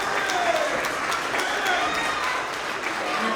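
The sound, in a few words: audience applause at school award assembly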